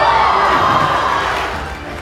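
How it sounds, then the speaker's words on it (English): A live comedy-magic show audience cheering and applauding loudly, a dense burst of claps and shouts that fades toward the end. "A massive round of applause for you."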